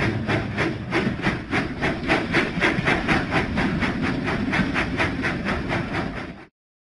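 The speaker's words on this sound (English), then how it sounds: "Thomas puffs and chuffs down the track." The Thomas the Tank Engine steam train from a children's video game puffs steadily along the track, with a loud, evenly spaced chuffing rhythm that runs for several seconds before cutting off.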